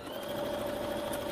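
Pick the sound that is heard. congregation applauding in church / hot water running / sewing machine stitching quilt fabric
sewing machine stitching quilt fabric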